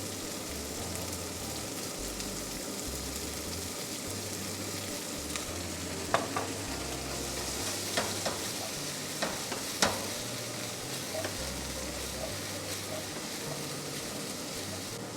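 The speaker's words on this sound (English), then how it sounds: "Shouldn't take long to cook the green beans." Green beans sizzle and stir-fry with a splash of light soy in a claypot, a steady close frying hiss with occasional sharp scrapes and clinks of a utensil stirring.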